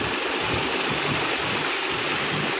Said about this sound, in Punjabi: ਕਾਲੇ ਦੇ ਗੇਟ ਨੂੰ ਲੱਗਿਆ ਹੋਇਆ ਪਾਣੀ